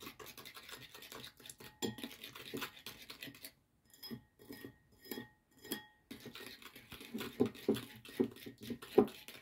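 Ground salt is stirred in a bowl with a spoon, giving soft gritty scrapes and light clinks in irregular bursts, with a short pause midway, quiet and close.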